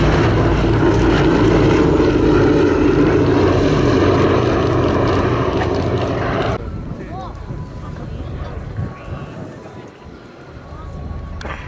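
A B-17 Flying Fortress with its four propeller engines drones loudly overhead at an RAF Scampton airshow, a sustained heavy roar that drops away partway through under a commentator's voice.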